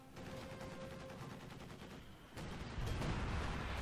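A flak gun fires in Company of Heroes 2, a steady stream of rapid bursts with the firing growing louder and denser toward the end.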